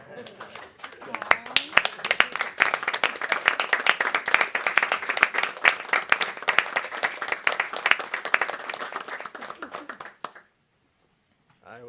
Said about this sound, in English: I'm going to be awkward and stand up and give them a round of applause